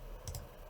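A computer mouse clicks the OK button during a Windows 10 installation, a quick pair of faint, close clicks with no speech.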